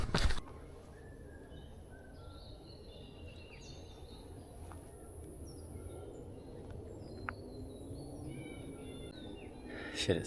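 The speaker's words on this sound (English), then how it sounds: "Just the sound of birds and insects and stuff." Quiet outdoor ambience on the Old Ghost Road trail during an ultramarathon, with scattered bird chirps and faint insect buzzing over a low background hum, no voices.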